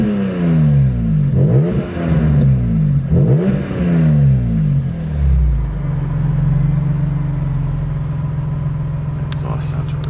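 A triple-black 2001 BMW M3 convertible with a six-speed manual revs its engine twice in rising, roaring sweeps through the exhaust, then settles into a steady, loud, throaty idle.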